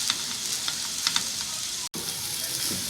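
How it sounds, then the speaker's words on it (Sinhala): Hot and spicy chicken noodles are stirred in a pan over medium heat, giving a close, steady sizzle broken by soft scraping stir strokes and one brief gap near the middle. "දැන් මේ මදගින්නේ හොඳින් කලවම් කරගන්න."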